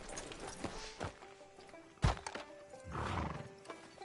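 A horse in Red Dead Redemption 2 clip-clops to a stop outside a sheriff's office and gives a short whinny, with a heavy thud midway and soft music underneath.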